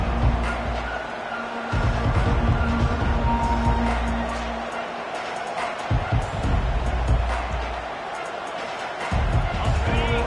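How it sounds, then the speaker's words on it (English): Stadium crowd in the NCAA '25 college football video game roars continuously, a loud, dense wall of cheering that swells and dips slightly across the span, with no clear speech on top. "This crowd, full throat, spreading the eardrums and letting them know it's going to be a long day."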